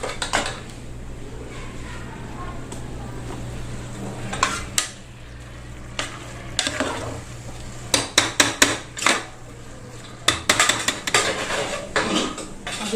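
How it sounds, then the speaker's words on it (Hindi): Raw chicken being added to a pan with ginger-garlic paste and stirred, with a steady low kitchen hum, repeated metal utensil clinks and scrapes against the pan, and clustered clattering bursts toward the end; no voices. "अभी ऐसे कच्चे में ही मैं चिकन ऐड कर दूंगी, और अभी चिकन के साथ जो अदरक लहसुन पेस्ट है अच्छी तरह"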